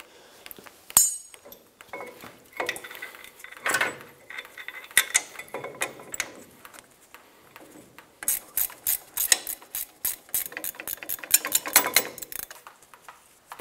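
A ratchet clicks in quick bursts, tightening bolts while a front brake caliper is fitted on a Toyota Tundra, with metallic clinks between runs of rapid clicking, close and fairly quiet.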